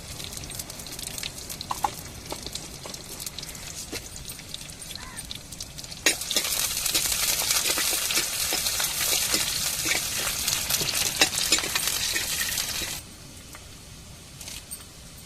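Hot oil crackles and sizzles as mustard seeds pop while tempering for an egg curry, rising into a loud, busy spatter for several seconds before settling back to a quieter hiss.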